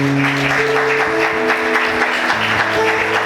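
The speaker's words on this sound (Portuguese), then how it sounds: "Aplauda o Senhor mais forte." A church congregation applauds in a sustained wash of clapping, layered over steady held keyboard or organ chords that continue throughout.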